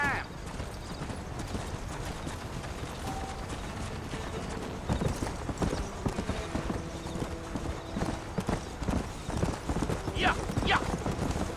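Horse hooves clip-clop steadily in the Red Dead Redemption video game, a continuous close rhythm of hoofbeats on a dirt track with background ambience and occasional creaks, while characters talk over the ride.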